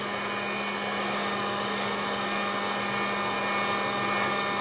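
A heat tool blowing hot air to set mixed media on an altered wooden log, a continuous loud whirring hum with a steady tone throughout.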